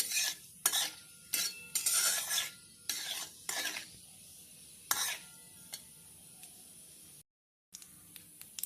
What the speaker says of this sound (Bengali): তেল গরম হয়ে গেছে, এবার দিয়ে দেওয়া হচ্ছে ফোড়নে সাদা জিরে, তেজপাতা। নাড়াচাড়া করা হচ্ছে।